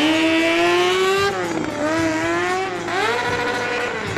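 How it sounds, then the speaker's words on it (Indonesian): Racing motorbike engine screaming at high revs, loud and close, with two quick dips and climbs in pitch like gear shifts or passes. "Wow, lihat tuh teman, di sini ada motor balap."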